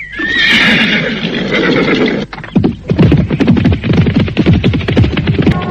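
Horses neigh loudly in a radio drama sound effect, with a long whinny at the start followed by steady, close clip-clop of hooves.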